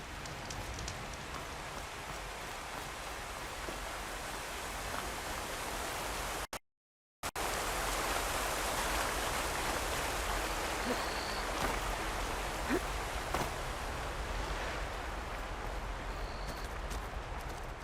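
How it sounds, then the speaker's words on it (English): Steady rain in the video game Horizon falls as a dense, even hiss of drops on surfaces, broken by a short silent gap midway. "Land was bracing for this rain."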